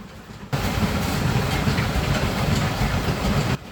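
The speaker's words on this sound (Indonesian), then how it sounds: "batu-batu itu akan dimasukkan ke dalam mesin gelondong" A gelondong drum mill grinds stones into fine powder, giving a loud, continuous rumbling churn with rattling texture. It starts abruptly, runs steadily for about three seconds, then cuts off.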